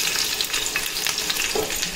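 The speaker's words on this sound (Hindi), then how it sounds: "तेल देखिए गर्म हो चुका है गाइस। अब हम इसमें डाल देंगे मिर्ची।" Green chillies dropped into hot oil for chura poha, giving a close, steady sizzle and crackle with scraping stirs throughout, no voices.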